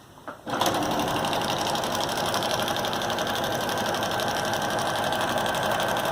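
A sewing machine stitches a row along the strap of a tote made from a feed bag, starting after a brief pause and then running at a fast, steady rhythmic chatter that stays loud and constant.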